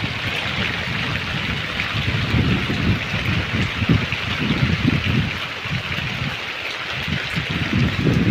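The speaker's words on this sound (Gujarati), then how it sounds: "વચમાં વળી વરસાદ બંધ થઈ ગયો તો વળી પાછો ચાલુ થયો" Steady rain pours down on a village, a dense, even hiss of falling water that rolls on without a break, with a low rumble and occasional gusts of wind buffeting the microphone.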